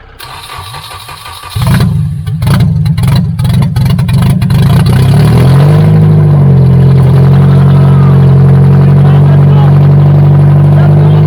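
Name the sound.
engine first start without exhaust downpipe, loud running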